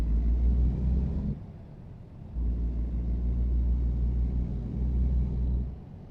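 Truck engine in the American Truck Simulator game idles as a steady low rumble, fades briefly, then picks up again and drones on at a constant level before easing off near the end.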